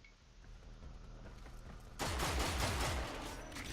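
Vaykor Marelok shotgun fire in the video game Warframe, heard as a dense burst of loud blasts that cuts in about halfway through over a low background rumble.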